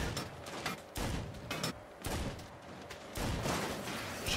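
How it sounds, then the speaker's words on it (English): Gunfire in the Saints Row video game, repeated bursts of shots in irregular clusters, moderately loud amid game noise with no talk. "Shooting."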